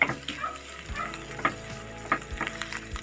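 Egg and tinda sabzi with coriander leaves is stirred in a pan, with a spoon scraping and clacking in several distinct strokes over a soft, low sizzle, close up and with no voices.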